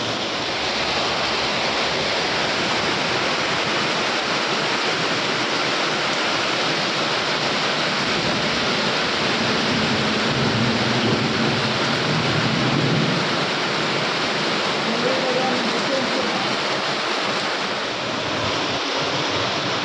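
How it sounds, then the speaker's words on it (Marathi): Heavy rain pours steadily at a village crossroads near a shop in the early morning, a dense, constant broadband hiss that stays loud and even throughout with no breaks. "डेंजर पाऊस चालू"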